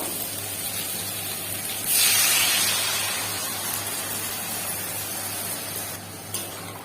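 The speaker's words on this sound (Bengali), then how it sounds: "এবার জলটা ঢেলে দেবো।" Water is poured into a pan of cooking fish curry, a sudden gushing splash that settles into a long hissing sizzle and then a quieter simmer.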